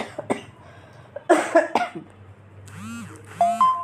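A person with a cold coughs a few times up close in a home kitchen, with short, sharp bursts, followed by a pair of soft electronic beeps or chimes.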